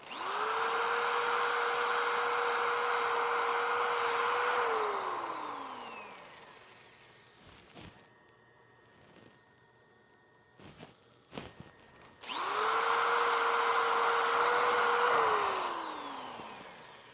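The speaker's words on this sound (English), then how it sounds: "the wet sanding is driving sawdust, sanding dust into the crack" A power tool whines steadily while wet sanding a wooden bowl, spins down, then runs up again after a pause with scattered knocks and handling noises; a continuous abrasive hiss accompanies it.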